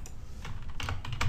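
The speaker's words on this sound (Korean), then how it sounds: "ifconfig라고 치고 엔터를 눌렀을 때" Several crisp keystrokes on a computer keyboard while a Linux network command is typed, ending in a firmer key press for Enter, close up with no voices.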